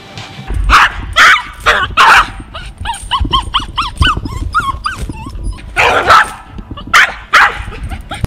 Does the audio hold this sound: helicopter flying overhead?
no